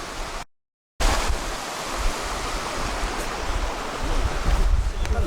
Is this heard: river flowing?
yes